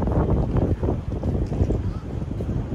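Strong, hot wind buffets the microphone in a constant low, gusty rumble that rises and falls.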